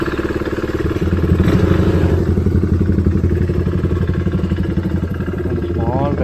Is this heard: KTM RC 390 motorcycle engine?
yes